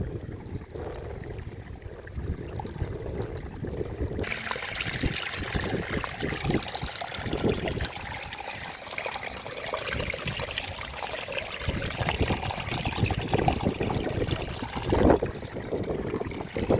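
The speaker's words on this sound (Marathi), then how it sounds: "पाण्याचा खुळखुळपणा माझ्या मनास मोहून गेला." Water trickles and gurgles near the Harbadevi Mata temple at Saphale, a continuous close babble with small splashes and some background rumble.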